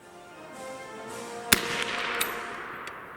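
A Mk I Lee Metford or Mk III* SMLE bolt-action rifle fires one sharp, loud crack that falls into a short reverberant tail, followed by a few fainter, distant reports.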